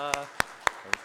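A church congregation claps to welcome new members: four evenly spaced, crisp handclaps about a quarter second apart, heard under a speaking voice.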